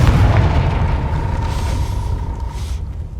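In the Hogwarts Legacy video game, a Confringo spell explodes with a loud, deep, rumbling blast that fills the whole moment and slowly fades.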